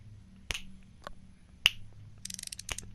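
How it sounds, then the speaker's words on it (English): Finger snaps, four or five sharp isolated clicks spaced irregularly, close and crisp, over a faint low hum with no speech. "Alright, I'm snapping my fingers."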